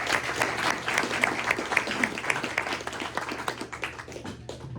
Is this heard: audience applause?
yes